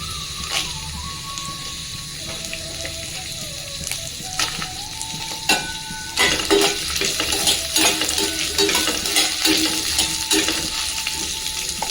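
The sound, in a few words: frying dals, fenugreek, coconut, coriander, dried chillies in oil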